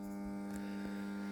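Steady electrical hum from a salvaged fluorescent tube being switched on, a constant buzzing drone that fills the whole moment without any talk.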